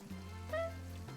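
A nut roast cooks on a hob in the cooking game PlateUp, giving a steady, soft sizzle with a faint humming tone underneath, constant through the short moment.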